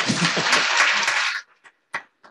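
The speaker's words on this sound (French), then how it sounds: "On peut l'applaudir" A short burst of applause from a church congregation that stops abruptly, followed by a few isolated claps or knocks in near silence.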